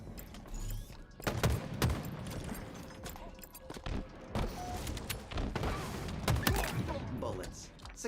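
Rapid bursts of gunfire from a shooter video game crackle in repeated volleys at moderate volume, mixed with thuds and voices talking over the action.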